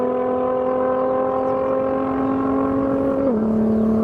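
Drag race launch between a Nissan GT-R R35 and a BMW M5 F10, a loud steady engine drone near at hand that drops in pitch as a gear shifts near the end.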